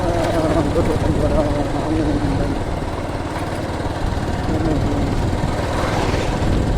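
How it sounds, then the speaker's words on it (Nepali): A motorcycle engine drones steadily nearby, with no clear pass-by rise and fall, under ongoing conversation. "यहाँबाट चाहिँ एउटा बाइक पनि आउनुहुन्छ"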